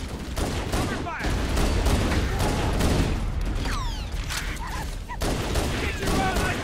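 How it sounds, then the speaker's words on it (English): Dense, continuous gunfire from Covenant and human weapons in the video game Halo: Combat Evolved, with rapid overlapping shots, whooshing energy-weapon sweeps and muffled voices mixed into the battle din. "Cover fire!"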